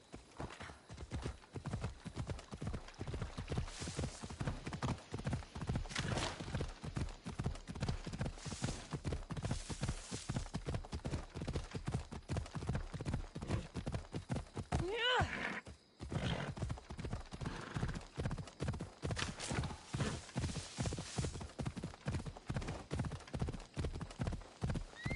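A horse gallops in the video game Assassin's Creed Odyssey, with fast, steady, close hoofbeats running throughout. There is a short break just past the midpoint, and a whinny can be heard.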